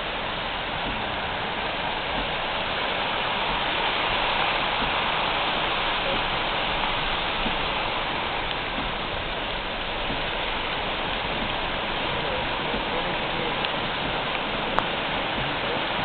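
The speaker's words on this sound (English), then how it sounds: "Starting to rain even harder," Heavy rain pours down during a 2014 flood at Meridian Hill, a dense, steady hiss that stays loud and even throughout with no pauses.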